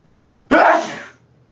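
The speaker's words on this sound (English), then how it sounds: "I feel a sneeze coming on" One loud, close sneeze bursts out suddenly in a quiet lecture room, trailing off within about half a second.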